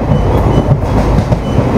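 A passenger train pulls out of Avaneeswaram station on the Kollam to Chennai Egmore line, a loud, close, steady rumble with rhythmic rail clatter running throughout, no voices.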